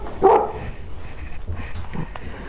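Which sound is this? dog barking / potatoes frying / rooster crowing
dog barking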